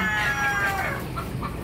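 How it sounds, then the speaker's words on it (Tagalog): Chickens cluck and squawk in a noisy cluster at a poultry farm, several birds overlapping continuously at close range. "Hindi ko lang alam kung anong pangalan ng manok na ito."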